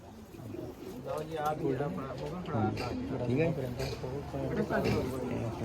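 Pigeons coo in low, rolling bursts close by, mixed with people talking over them throughout.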